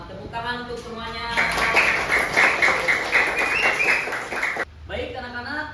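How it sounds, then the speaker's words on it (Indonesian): A class of schoolchildren claps together in a rhythmic round after an Islamic religious education lesson, fast bright claps in the middle with an adult voice talking before and after. "Tepuk tangan untuk semuanya."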